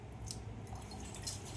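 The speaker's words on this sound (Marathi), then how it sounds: "नळ आलेले आहे." Water from a household tap drips and trickles faintly into a container indoors, a quiet run of soft small drops with no voices.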